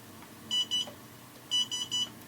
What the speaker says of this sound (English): You get these two beeps.